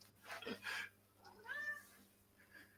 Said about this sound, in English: You don't want your cat to meow.